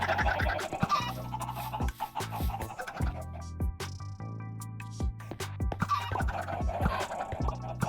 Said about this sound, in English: Sounds like a chicken coop.